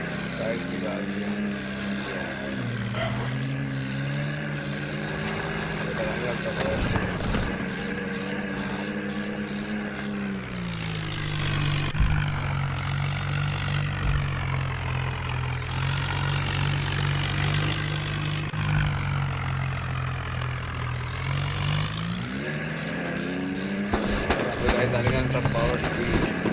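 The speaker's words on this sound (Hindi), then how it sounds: "गाइस इससे पावरफुल ट्रैक्टर" Powerful 12-tyre monster tractor engine idling with a steady low rumble throughout, revving up at moments, while people talk over it close by.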